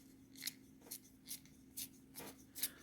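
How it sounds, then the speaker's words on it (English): A wooden beginner's pencil is twisted in a sharpener, giving about six quiet, evenly spaced scraping turns close by. "let's try the sharpener while we have it here"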